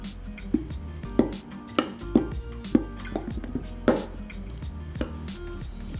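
A spoon stirs nut milk pudding in a bowl, giving repeated clinks and scrapes against the dish in an uneven rhythm, close and fairly loud with no talk.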